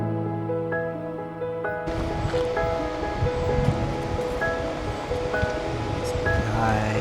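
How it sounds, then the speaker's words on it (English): The Fanes waterfalls in the Dolomites give a steady broad rushing roar that starts abruptly and continues evenly, heard from a mountain path. "Wow, I can hear the Cascade di Fanes."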